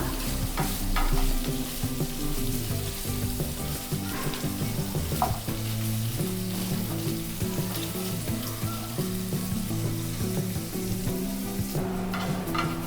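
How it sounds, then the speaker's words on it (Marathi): Paneer cubes frying in a kadai until reddish, giving a continuous close sizzle with repeated stirring and spatula scrapes throughout, no talking. "थोडंसं लालसर असं भाजून घ्यायचं आहे आपल्या पनीरला।"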